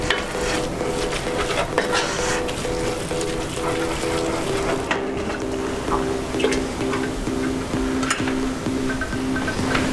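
A spoon scrapes and stirs flour into onions that have cooked down in a pot for French onion soup, steady scraping strokes over a soft sizzle, close and moderately loud, with occasional clinks against the pot.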